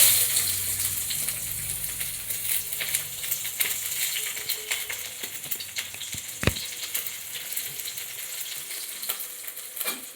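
Chopped onion sizzles in hot oil in a wok, a steady crackling fry with a few clinks of stirring and one sharp knock midway, heard alone without talk.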